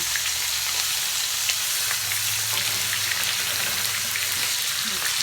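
Porterhouse steak and chicken searing hard in a hot pan, a loud steady crackling sizzle throughout with dense popping spatter, close and continuous with no talking.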